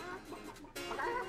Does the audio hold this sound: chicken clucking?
yes